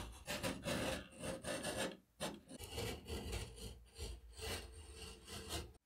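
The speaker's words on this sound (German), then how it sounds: "mit einem scharfen Cuttermesser hier außen am Rand die oberste Kartonschicht von unserer Wand einschneiden" A sharp utility knife scrapes and rasps through the top paper layer of a drywall board in repeated rough strokes, close and fairly quiet, with brief pauses between cuts.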